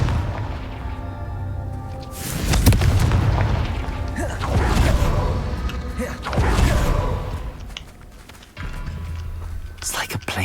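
In the Hogwarts Legacy video game, a Confringo spell explodes in deep, rumbling booms with whooshing bursts, loud and repeated across the clip, over a low whispery voice.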